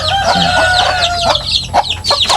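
Hens and their young chicks close by: low clucks mixed with high, rapid peeping that overlaps in quick bursts, loud and near, with no talking.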